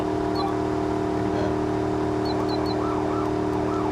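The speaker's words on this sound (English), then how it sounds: "you got this weird siren that's not part of it at all" A police siren in the BeamNG driving game wails in rising and falling sweeps over a constant engine drone, fairly loud, with no speech.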